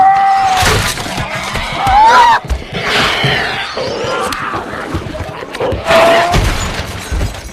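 Glass shatters loudly as a zombie bursts through a room window in a film scene, with repeated crashing impacts, scattered debris and dramatic effects layered over it.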